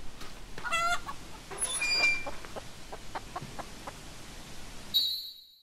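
Chickens in the video game Hollow Cocoon cluck in short, clipped bursts over a low background hum, ending with a bright synthetic tone.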